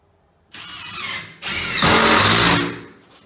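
A power drill drives screws into roof sheeting on a grain bin, giving two loud, close bursts of whining motor and grinding, the second longer, each ending abruptly.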